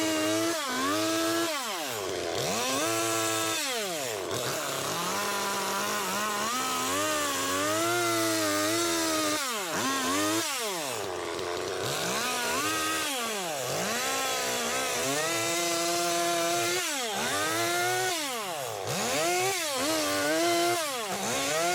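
Chainsaw carving a wooden ghost sculpture, the engine snarling loud and close for the whole stretch, revving up and dropping back in repeated swells as the blade bites and lifts from the wood; no talking.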